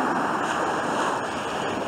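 Mediterranean sea waves wash onto the shore at Çamyuva in Turkey, a loud steady surf hiss with wind buffeting the microphone.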